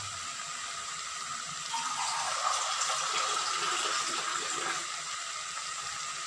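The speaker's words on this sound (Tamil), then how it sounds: "இப்போ நம்ம தண்ணி சேர்த்துக்கலாம்." Steady running water pours into a cooking pot of sambar rice for several seconds, a continuous broadband rush that swells in the middle and then settles, with no voices.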